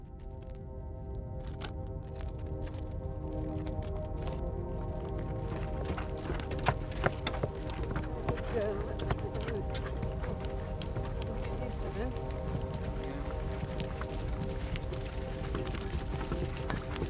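Macedonian horses clip-clopping across a plain under an army of sixty thousand men, a steady rolling patter of many hooves that runs the whole stretch beneath a dense wash of background sound.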